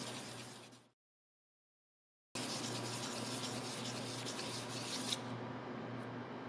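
Sanding the copper traces of an ESC circuit board by hand, a close steady rasping scrape that stops for over a second, then resumes and continues to the end.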